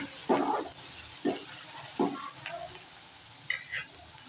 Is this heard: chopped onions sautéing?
yes